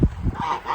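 Three farm geese honk loudly and nasally in a short burst, close by, with a few overlapping calls in under a second.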